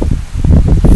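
Gusty wind blows across a desert front yard with ocotillo plants, giving a loud, close rumble with buffeting bursts and a rustle throughout.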